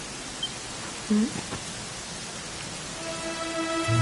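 Steady rainfall in the video game Dragon Quest XI, a soft, even hiss of falling rain with faint musical tones and a brief low sound partway through.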